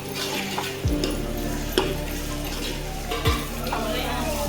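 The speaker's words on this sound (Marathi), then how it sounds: "आता हे पण आपण परतून घेऊया, व्यवस्थित शिजवून घेऊया." Tomatoes sautéing in oil in a pan for spicy biryani give a steady loud sizzle, broken by a few scraping stirs and clinks of a spoon against the metal.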